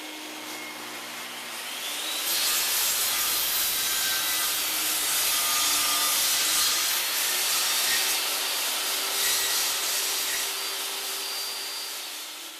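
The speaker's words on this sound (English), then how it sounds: "Flip the board end for end and run it through again." A table saw cuts a board fed through on a second pass, a steady high-pitched whirring rip that starts abruptly, holds loud for about ten seconds, then fades as the cut ends.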